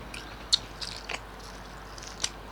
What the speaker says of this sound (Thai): กัดหมูทอดเลยหมูปิ้งอ่ะ